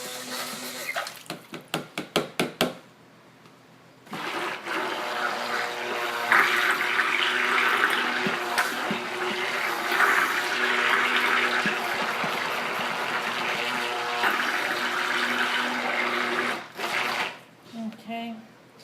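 Running water from a tap pours steadily as something is rinsed out under it, a close, continuous splashing hiss after a few short rattling taps at the start, easing off near the end.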